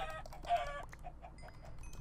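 Chickens clucking in the game Minecraft (Feed The Beast modpack), a burst of stacked clucks and squawks in the first second, then softer scattered calls over a steady low hum.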